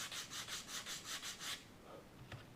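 Sandpaper is rubbed quickly over the bevel at the root of a wooden catapult glider wing, about eight rhythmic strokes, close and soft, then a small tap, with no one talking.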